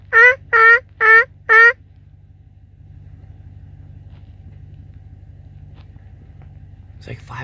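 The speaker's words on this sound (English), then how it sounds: "There's some turkeys over there." Wild turkeys gobble from a distance during a late-season elk hunt, four loud rapid bursts in quick succession followed by quiet low rumble, then a faint call at the end.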